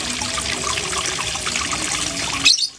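Steady splashing from a small homemade artificial waterfall, a continuous broadband rush that cuts off abruptly near the end after a brief louder burst.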